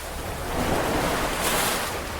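Ocean waves batter a ship at sea in the game Love and Deepspace, a dense, steady roar of surf and wind that swells in the middle, loud and close with no voices.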